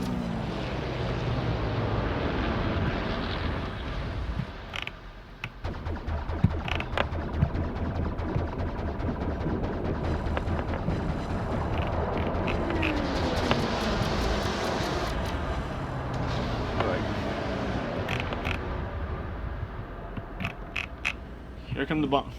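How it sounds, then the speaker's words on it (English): Dive bomber aircraft approaching in World of Warships, a loud, continuous roar of engines with mechanical creaks and bursts of gunfire, swelling and holding close for over twenty seconds. "Here come the dive bombers."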